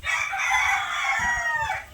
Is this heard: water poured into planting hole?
no